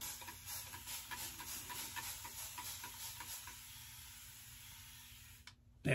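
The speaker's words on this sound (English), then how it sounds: "absolutely love this bougie sprayer" A spray bottle mists the face before a shave, giving a run of quick, close hissing puffs that settle into a steady hiss, then cut off abruptly.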